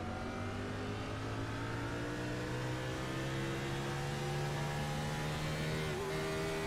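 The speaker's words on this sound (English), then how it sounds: "Watch those RPMs spike up. He missed the shift." Race car engine in a superspeedway racing game at Talladega, droning steadily with a sustained high-pitched whine that climbs slightly as the revs spike after a missed shift, loud and continuous with no talk.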